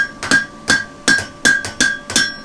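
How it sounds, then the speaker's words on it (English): A farrier hammers a horseshoe on the edge of an anvil, loud, close metallic strikes in quick pairs, a hard hit followed by a lighter rebound, repeating steadily. "And then use the flat of your hammer."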